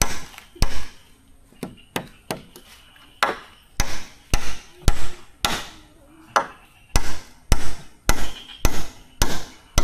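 Hammer blows strike a wooden post being set for a hanging tree house, about seventeen loud, close, sharp knocks in a steady, slightly uneven rhythm with short pauses between them.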